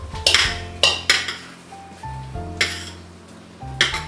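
A spoon scrapes and clinks against a pot while Cajun rice dressing is stirred, giving several distinct metallic knocks in an uneven rhythm, close and fairly loud.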